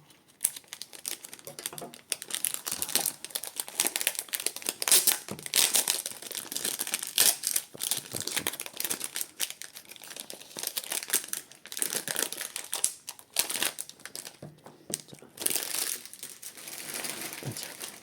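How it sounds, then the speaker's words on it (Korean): Plastic wrap is torn and crinkled off a boxed 54mm speed cube during an unboxing, producing dense, close crackling and rustling bursts that continue for about eighteen seconds with brief pauses. "자, 박스를 봤으면 까봐야죠. 까보는 게 진리죠."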